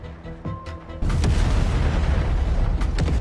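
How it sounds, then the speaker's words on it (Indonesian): A truck carrying a generator is blown up in a TV drama. A deep, booming explosion hits suddenly and keeps rumbling loudly for several seconds. "Dan truk beserta generatornya diledakkan."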